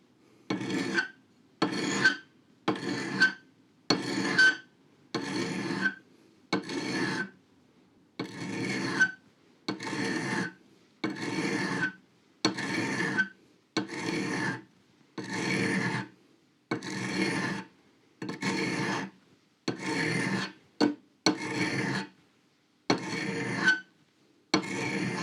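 A drill bit is sharpened with a hand file and no power tools: about twenty evenly spaced rasping strokes, close and moderately loud, each separated by a short pause.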